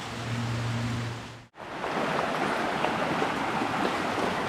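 Water in Bobo Creek, Tennessee, rushes in a steady broadband wash, heard close. The sound drops out for a moment and then returns just as full.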